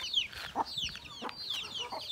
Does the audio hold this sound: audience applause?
no